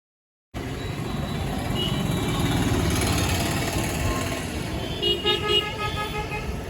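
An auto rickshaw engine hums continuously up close from inside the vehicle, with traffic noise around and a few short horn toots near the end.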